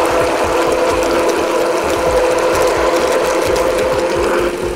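A blender blitzes crêpe batter made with cold brew coffee, a steady loud motor whir with a churning, rattling texture running continuously and close up, ending abruptly.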